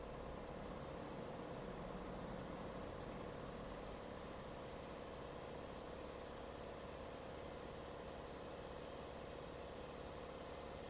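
A 2013 Toyota Fortuner engine with automatic transmission runs steadily, held at around 2000 RPM as it warms up; a constant, dense hum and rumble fills the scene throughout with no talking.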